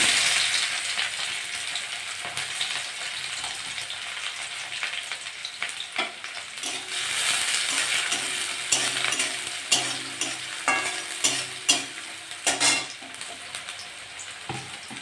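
Chopped garlic and onion sizzle steadily in a hot pan, with occasional stirring scrapes and clicks of a utensil against the metal growing more frequent toward the end; no talking.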